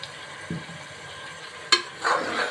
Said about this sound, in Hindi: ये सारे स्पाइसेस में डालूंगी।